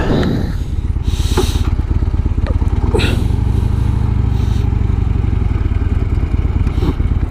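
A Harley-Davidson Dyna motorcycle rumbles steadily with a loud, close, continuous engine throb and wind noise as it rides along, with a few brief rattles and whooshes over the top.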